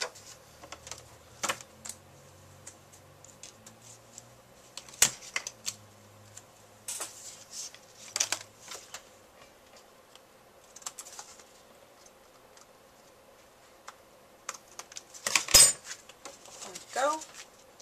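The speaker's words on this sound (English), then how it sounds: "Let's cut off the excess." Excess card paper trimmed away for a chalkboard-style Valentine's Day card, with soft scattered clicks, snips and taps from the tools, close and quiet, plus one sharper knock near the end.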